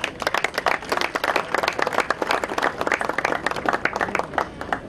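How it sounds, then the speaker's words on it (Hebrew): Sustained applause from an audience at a Druze memorial ceremony held in the morning, dense steady clapping filling the full stretch, fairly loud and near, with no talking over it. "מגיעות להם מחיאות כפיים."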